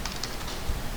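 Computer keyboard keys clatter in a short burst while CAD software is used, a few soft, close taps over a faint steady hiss, with no talking.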